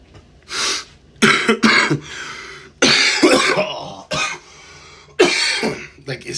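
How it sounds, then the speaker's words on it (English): Several harsh coughs and throat-clearing bursts from a person recovering from illness, in irregular succession, close and loud, separated by short quiet gaps. "I've been coughing too much"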